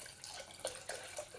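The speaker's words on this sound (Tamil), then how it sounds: "5 டம்ளர் தண்ணி ஊற்றிக்கிறேன்" Water poured from a tumbler into a cooking pot for one-pot rasam rice, a soft steady splashing and trickling with a few brief louder pulses, close by and without talk.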